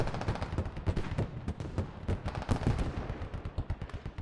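Mortar and artillery fire rumble through a war video game depicting an ambush of army troops in Quebec, a dense, rapid stream of overlapping booms and cracks that continues throughout without a pause.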